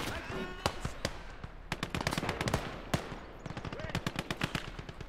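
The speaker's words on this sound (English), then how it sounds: "He's done with the machine gun." Machine gun fire in the video game Gates of Hell, rattling out in rapid, uneven bursts of sharp close shots that keep going throughout, with faint voices at times underneath.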